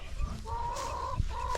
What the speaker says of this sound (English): So it is a rooster.